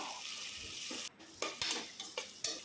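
Chopped tomatoes with ginger garlic paste fry in oil for mutton biryani, a continuous close sizzle broken by a few sharp stirring scrapes and spatula knocks toward the end, with no voices.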